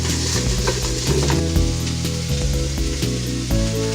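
Onions and carrots fry in a pot with a steady, close sizzle that runs the whole time alongside rhythmic background music.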